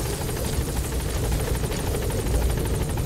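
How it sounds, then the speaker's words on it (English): Support helicopter arriving in the video game MGSV: The Phantom Pain, a steady loud rotor chop with whirring engine drone that holds constant throughout, no voices over it. "Support helicopter has arrived."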